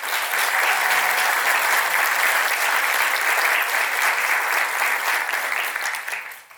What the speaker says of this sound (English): if everyone wants to give Ananth a big round of applause.